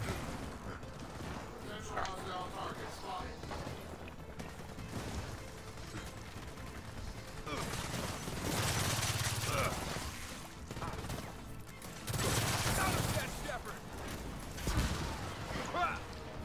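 Blind-fire gunfire in the Gears of War 4 co-op video game comes in broad noisy bursts around the middle and end, layered with game noise and people talking.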